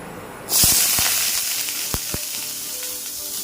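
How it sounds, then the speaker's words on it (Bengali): Ingredients for chilli baby corn hit hot oil in a wok with a sudden, loud burst of sizzling, then a steady close-up crackling hiss with a few sharp pops and no talking. "জলে ধুয়ে নিয়েছি, কড়াইয়ে তেল দিয়েছি, এরপর এটা দিয়ে দেবো।"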